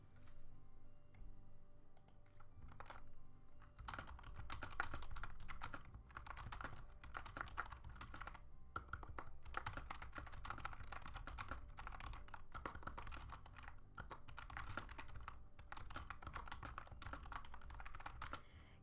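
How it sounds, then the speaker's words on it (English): Computer keyboard typing fills the clip with quick, irregular key clicks in steady bursts, close and crisp, going on for nearly twenty seconds without speech. "Keyboard ASMR."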